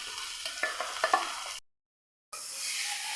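Beef frying in a pan over a raised high flame, with a broad steady sizzle and a few scraping stirs in the first half, then a sudden gap of silence before the hot hiss resumes alone.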